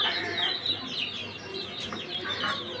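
Chickens cluck and chirp softly inside a nine-compartment farm cage, a faint, continuous flock chatter.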